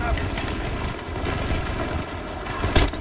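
Gunfire in the shooter Battlefield 2042 during a Rush match, dense rapid shots rattling continuously with a sharper loud crack near the end, mixed with game noise.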